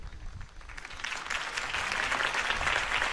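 Crowd applause at a Harvey Dent campaign rally in the Batman Telltale series video game, a dense clapping roar that swells louder over a few seconds with no voices.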